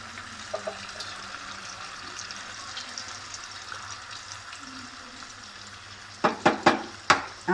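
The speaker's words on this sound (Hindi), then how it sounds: "5 मिनट हो गए हैं मुझे भूनते हुए।" Chicken sautés in a pan with a steady sizzling hiss for several seconds, then a few sharp scraping clacks of stirring near the end.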